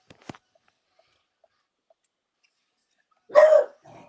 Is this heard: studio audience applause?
no